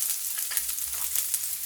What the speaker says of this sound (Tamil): இந்த ஸ்டேஜில் வெங்காயத்தை ஆட் பண்ணிக்கோங்க.